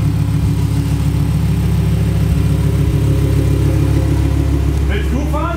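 A Lamborghini engine runs with a steady, loud, low mechanical drone and a slight rise in pitch, while people speak German over it.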